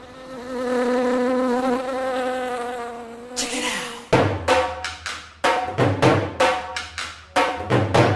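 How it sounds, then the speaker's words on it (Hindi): A mosquito said to carry dengue whines with a steady, wavering high-pitched buzz close by for about four seconds, then a run of sharp, rapid slaps or thumps follows in an uneven rhythm. "मुझे लगता है कि डेंगू का मच्छर बैठा था।"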